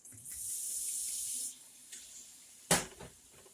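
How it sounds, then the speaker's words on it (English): Liquid poured into a hot pan to deglaze it for Philly cheesesteaks gives a hissing, sizzling rush that fades after about a second and a half, then a brief sharp clatter, faint overall. "This is going to deglaze the bottom of that pan."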